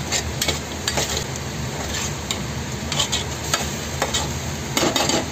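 Cinnamon, cardamom and cloves sauté in a pan with a continuous moderate sizzle, punctuated by repeated sharp ladle scrapes and taps against the metal.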